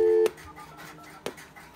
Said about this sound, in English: That was last number redial